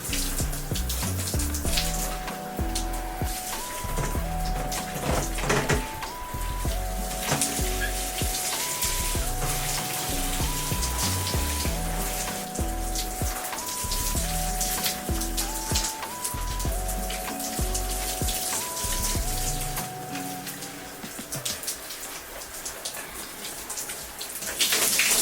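Water streaming steadily while rinsing hair locs, a continuous close splashing and running flow that persists throughout at even volume, with music playing underneath.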